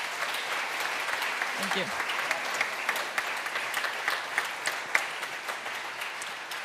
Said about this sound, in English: A round of applause to my speakers.